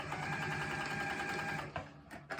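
A sewing machine runs steadily, stitching a seam in shapeshifter vinyl with a continuous close whir, then slows and stops with a couple of brief stutters near the end.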